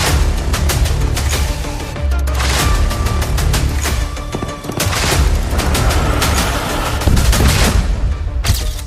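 Israeli air strike on Gaza city: loud, dense bursts of explosions and rapid cracking blasts run almost without pause, with heavy booms layered throughout and no talking.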